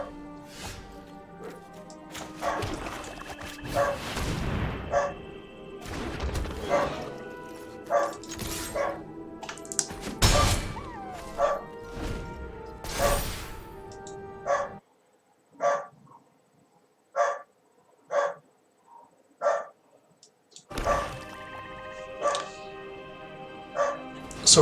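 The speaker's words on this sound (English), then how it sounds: "Sorry for my dog there." A pet dog barking repeatedly indoors, with sharp loud barks and yips in irregular bursts, then a steady run of evenly spaced barks, with background game sounds and occasional talk.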